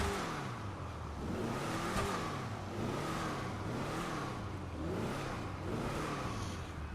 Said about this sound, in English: If you merely rev too high, it just sticks at the red line.